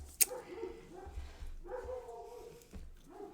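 Neighbours' dogs barking next door, a few separate muffled barks and whimpering yips spaced across a quiet indoor room, moderately distant.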